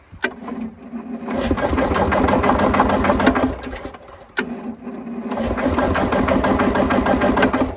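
A vintage motorhome engine cranks twice in long, rapid chugging bursts with a short pause between, loud and near, never catching, with no fuel pump heard.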